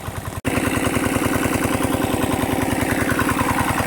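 A diesel engine on a farm thumps in a steady, rapid rhythm, loud and close, running alone after a brief cut near the start.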